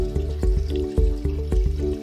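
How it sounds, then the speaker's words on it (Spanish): Water pouring from a Hydrolux Sumisu water hydrogenator into a glass, a steady trickle with rhythmic gurgling pulses, close and moderately loud with no talking. "y nos sirve un vaso de agua"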